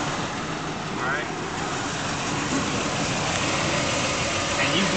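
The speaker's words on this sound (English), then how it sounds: "now we're going to look under it now that the engine's running" A car engine idles with a steady mid-pitched hum during an oil change, the motor just started so the underside can be checked for leaks, close and constant for several seconds.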